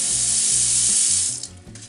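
Water gushes steadily from a tap into a pot, a loud continuous hiss that tapers off near the end.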